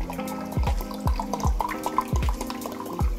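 Still water trickles and drips in quick uneven splashes, close and fairly loud, as one cup is poured into a container.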